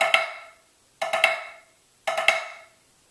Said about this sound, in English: An example of a loose or an open drag would sound like this.